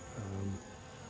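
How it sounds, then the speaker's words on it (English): Honeybees buzzing around a beehive entrance while many bees groom themselves outside; a soft, steady hum with one louder drone passing close for a moment, then fading back to a faint background buzz. "there's a lot of bees out that seem to be cleaning themselves"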